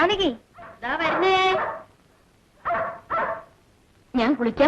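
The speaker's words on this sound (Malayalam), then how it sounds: "തോട്ടത്തിൽ നായ വല്ലാതെ കുരയ്ക്കുന്നു." A dog barks and yelps in a garden in several separate bursts, fairly close and loud, with short quiet gaps between them.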